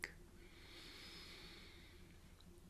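A slow, soft breath drawn in during a guided breath meditation, a single steady airy inhale that sounds close but quiet, following a brief click at the start, with no talking.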